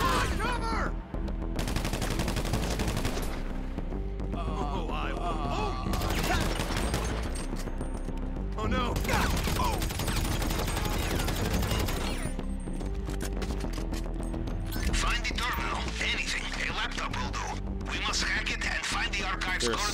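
Gunfire in the video game GTA 5 during a Cayo Perico heist setup, with rapid automatic bursts and repeated shots layered over game sounds and music, continuous and loud throughout.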